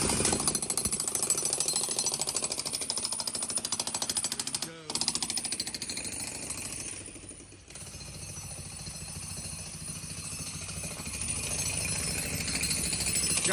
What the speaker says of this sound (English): You might not be able to hear me with all this jacking that's going on